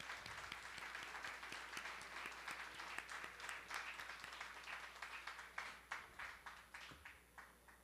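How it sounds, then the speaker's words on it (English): Sustained audience applause at a school keynote event at Rise Academy, steady dense clapping that thins toward the end into scattered individual claps. "Let's give them a round of applause, please."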